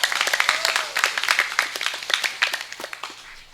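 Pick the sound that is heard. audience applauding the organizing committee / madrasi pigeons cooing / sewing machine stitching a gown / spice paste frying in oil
audience applauding the organizing committee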